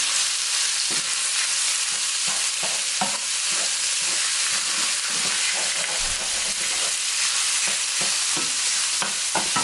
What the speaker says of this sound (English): we're going to add in the ground pork. And I'm just going to do it quickly before the ginger and the garlic have a chance to burn